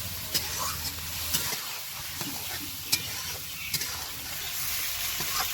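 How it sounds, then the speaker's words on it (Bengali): Snakehead fish fries in a spice paste in a pan, giving a steady close sizzle broken by periodic scraping strokes as the pieces are stirred and turned. "কষা মশলায় মাছটা এইভাবে ভালো করে কষে নিব"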